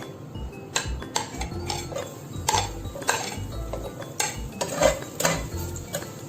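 A spoon stirs chopped garlic in about two tablespoons of hot oil in a pan, giving repeated scraping and clinking taps against the metal with a steady low sizzle underneath, close and moderately loud with no talking.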